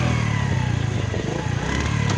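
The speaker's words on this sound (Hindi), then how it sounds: "बाइक स्टार्ट की हुई है इसने" An off-road motorcycle sits running at the Derajat Off-Road Challenge rally in sandy Dera Ismail Khan terrain, its engine a loud, close, steady throbbing drone that holds throughout with no talking.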